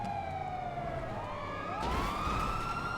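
Police car siren in GTA 5, a steady wailing tone rising and falling over a constant engine and road rumble, fairly loud and continuous.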